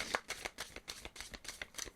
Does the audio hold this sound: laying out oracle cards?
yes